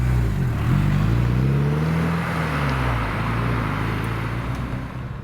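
A Porsche 944 Turbo drives and accelerates, its engine note climbing and easing in a loud, close drone against steady road rumble, with no voices.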